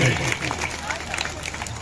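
An audience at the Ramleela closing ceremony at IIT Kanpur applauds to welcome the sisters; the clapping is dense, continuous and moderately loud over a brief stretch, with a crowd murmur beneath.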